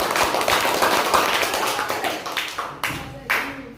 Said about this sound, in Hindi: ताली दो, बहुत सारे।